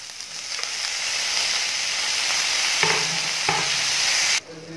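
Onion and tomato sautéing together in a pan, a loud, even hiss with a few spatula scrapes, the sizzle dropping away abruptly near the end.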